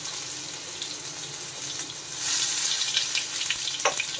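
Chopped tomato with salt hits hot oil already tempered with chilli and whole cumin for a vegetable kofta curry, giving a close, continuous sizzle that grows louder and fuller midway, with a few light stirring clinks and no talking.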